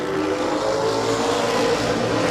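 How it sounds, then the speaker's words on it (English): A race car engine running down a cylinder at Midvale Speedway drones loud and steady with a rough, uneven tone, held close throughout with no pauses. "The 22 car sounds like it's down a cylinder as Malkett goes to the outside for second."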